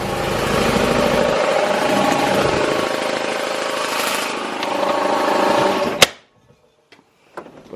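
A pit bike's small engine runs loud and steady after a push start, then cuts off abruptly, leaving near silence with a few faint knocks.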